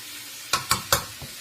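Mushrooms frying in oil in a pan for pancit: three sharp, close scraping stirs and a softer fourth ring out over a faint, steady sizzle, with no talking.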